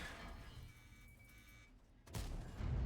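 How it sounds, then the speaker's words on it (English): A heavy tank cannon firing in World of Tanks, a deep booming blast that erupts near the end after a quieter stretch of low rumbling engine and ambient noise. "Oh, that was a badly aimed shot."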